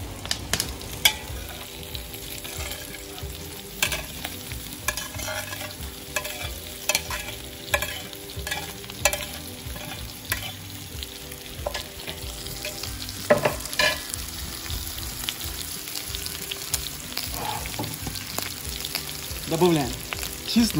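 Potatoes frying with meat in a pan, a steady crackling sizzle broken by repeated stirring scrapes and clinks, close and continuous throughout with no talking.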